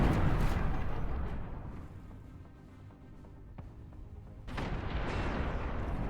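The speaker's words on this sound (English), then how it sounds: "the basilisk, you can see them just on this hill firing away" Basilisk artillery units in the real-time strategy game Beyond All Reason firing away from a hillside, heard as rumbling booms and gunfire, loud at first, fading to a calmer stretch with a sharp shot, then swelling again.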